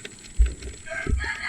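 A chicken gives two short, abrupt clucks close by during a fishing dive trip, with low thumps and a faint background hiss between them.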